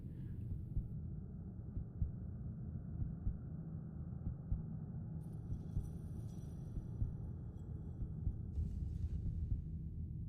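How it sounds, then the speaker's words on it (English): Heartbeat sound effect from the video game RuneScape, a low, muffled, throbbing pulse repeating steadily over a quiet hum. "I hate the heartbeat. Do you hear that heartbeat?"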